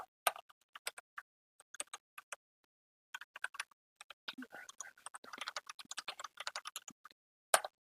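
Keys clack on a computer keyboard in short irregular bursts, close and quiet, with brief pauses between flurries of taps.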